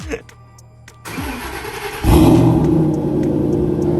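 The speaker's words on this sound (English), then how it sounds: "so that was the first cold start" Car engine on an 800 hp build with a triple pass heat exchanger making its first cold start: a short cranking burst, then a loud, steady low rumbling idle that stays strong to the end, heard close.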